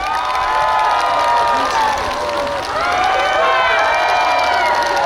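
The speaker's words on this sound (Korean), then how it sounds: "박수 한번 보내주세요" Outdoor concert crowd at a beach park cheering and applauding for a trot singer, a loud sustained roar of voices and shouts with whoops layered over steady clapping.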